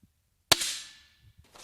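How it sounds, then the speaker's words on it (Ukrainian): A single sharp rifle shot cracks out nearby at an indoor shooting range, its echo trailing away for a moment, preceded by a faint click of the bolt closing. "Заряджається куля, закривається затвор, і гвинтівка готова до пострілу."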